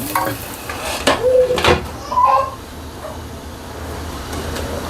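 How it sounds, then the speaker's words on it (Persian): Onions frying in a cooking pot while being stirred, a steady close sizzle with scraping stir strokes and a few brief clatters against the pot. "باش که لحظه مصروف دیگ نسوزه، پیازا نسوزه"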